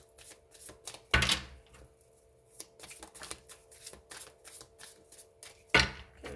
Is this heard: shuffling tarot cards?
yes